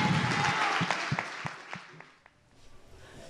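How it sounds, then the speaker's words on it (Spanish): A church congregation applauding, a dense burst of clapping that thins into scattered individual claps and fades out to near quiet within a few seconds. "Dale más fuerte ese aplauso a Él"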